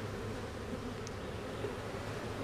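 Honeybees buzzing in an opened hive during a check for new queens, a steady low drone holding for the whole stretch with no voices over it.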